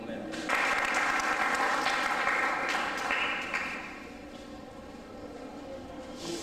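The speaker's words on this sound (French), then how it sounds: "Applaudissez pour vous-même." Applause from an audience at a live French-language aero consulting and training center event, a loud sustained burst of clapping that gradually thins and fades toward the end.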